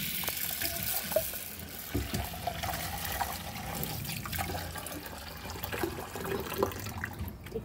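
Water pours into a bowl of lentils set out to soak, a steady splashing and gurgling stream at close range that runs the whole time without speech.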